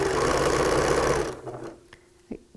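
A sewing machine runs steadily through rolled T-shirt fabric for just over a second, then stops, leaving faint handling clicks and a soft thump close by.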